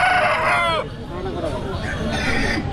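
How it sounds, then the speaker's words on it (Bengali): A fighting rooster crows loudly in the first second, with more clucking fowl and a murmur of people talking in the background at a livestock market in Bankura. "এই একটা মুরগি, এটা হচ্ছে লড়াইয়ের মুরগি"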